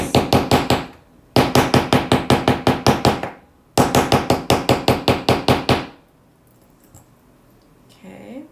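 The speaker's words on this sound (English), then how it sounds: "I'm moving it around, slowly going around with my hammer" A hammer taps a metal piece in a dapping block, struck in three fast bursts of about eight to ten sharp, ringing blows each, close and loud, with short pauses between and a quiet stretch at the end.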